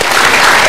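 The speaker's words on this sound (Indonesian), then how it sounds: "Tepuk tangan buat Dr. Ari Faryal." Studio audience of a health talk show bursts into loud, close applause for a guest doctor, a short dense wash of clapping.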